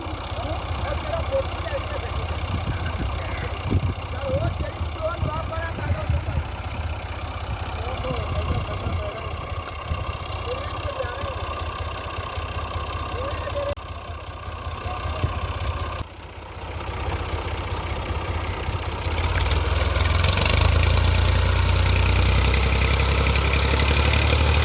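Massey Ferguson MF 240 tractor engine running close by, a steady low diesel chug with a brief dip midway before it grows louder and heavier toward the end, with voices heard faintly over it.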